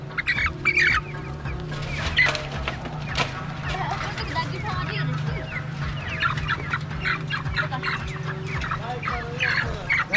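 Chickens cluck and squawk continuously at a busy market in Afghanistan, close by and fairly loud, with voices and other crowd noise running underneath.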